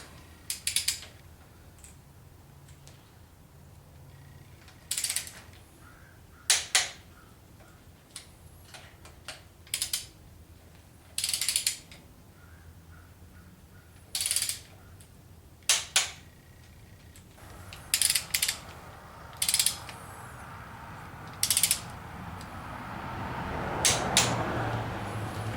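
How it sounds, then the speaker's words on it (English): Tool clicks and ratcheting while tightening bolts on a Chevy 350 engine rebuild, a series of sharp, separate metallic clicks spaced every second or two, close and alone over a quiet workshop background. "Now I can get on with the back one and get my torque wrench."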